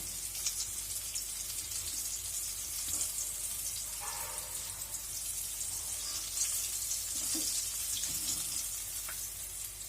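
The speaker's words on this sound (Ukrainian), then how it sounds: "Всі потрошки перевернула і най вони смажуться." Steady sizzling of zucchini pieces frying in a pan, a constant crackling hiss with a few soft clinks, no voices.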